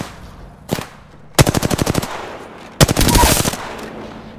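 Automatic gunfire in a shooter video game rings out as a short single shot followed by two rapid, loud bursts, each a fast string of sharp cracks separated by brief silences.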